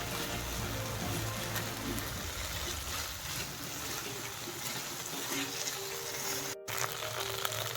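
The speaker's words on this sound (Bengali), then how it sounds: "এটা আমি খুব ভালো করে কষিয়ে নেব, একটু তেল ছাড়ুক।" Ginger and garlic paste fries in oil in a pan, giving a steady, close sizzling crackle that runs throughout at moderate level, with a brief dropout near the end.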